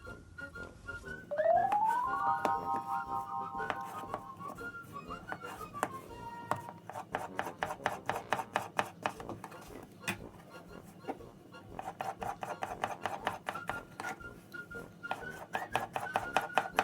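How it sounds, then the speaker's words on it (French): A kitchen knife slices halved potatoes into strips on a board, giving a run of quick, crisp taps in bursts, close by, while a tonal melody plays in the background and someone speaks at times. "on va les couper une fois en deux. Et après, juste en lamelles comme ça."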